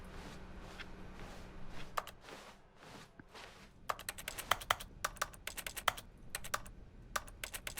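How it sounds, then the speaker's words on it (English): Computer keyboard clicking, sparse at first then a quick run of crisp keystrokes and clacks, fairly close and moderately loud with no talk over it. "I hear your keyboard clicking."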